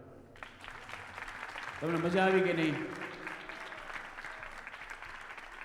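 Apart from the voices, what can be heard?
audience clapping at temple bhajan night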